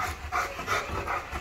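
A dog pants close by in quick, rhythmic breaths, about four soft huffs in a row over a steady background hiss, with no talking.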